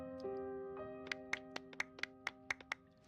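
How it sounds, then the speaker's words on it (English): Applause in a Genshin Impact cutscene comes as a run of evenly spaced, sharp claps over a sustained musical tone, fairly quiet and without talk. "A round of applause, please."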